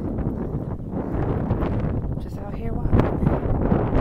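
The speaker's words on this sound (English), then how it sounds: "it's windy just now, but hopefully you can hear me" Gusty wind buffets the microphone with a low rumble as a person talks while walking outdoors.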